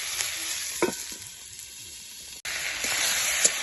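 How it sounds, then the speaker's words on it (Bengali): Vegetables fry in a pan with a steady, close sizzle and hiss, broken by scraping stirs and a brief dip partway through, with no voices. "সবজিগুলো প্রায় ভাজা ভাজা হয়ে এসেছে"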